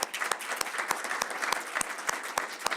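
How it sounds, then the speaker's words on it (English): A crowd applauds school board candidates at a forum, dense steady clapping through the whole stretch, punctuated by a regular thump roughly every third of a second, with no speech. "So let's give our candidates a big round of applause"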